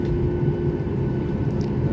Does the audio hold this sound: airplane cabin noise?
yes